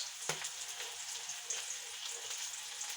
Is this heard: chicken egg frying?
yes